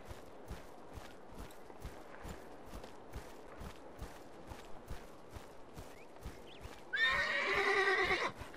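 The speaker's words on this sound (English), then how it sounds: "The terror horse." Regular hoof clops plod along quietly, then a loud, shrill horse whinny rings out near the end; a terror horse in the video game Drakensang.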